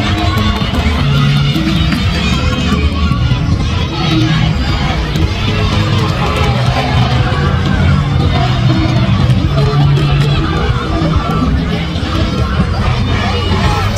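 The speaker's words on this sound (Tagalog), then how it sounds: "sobrang hiyawan na yung mga kids kasi last na ikot na nila" Children shout and cheer loudly and without a break during the final lap of a race at a Japanese school sports day (undoukai), forming a dense crowd roar with excited voices all through.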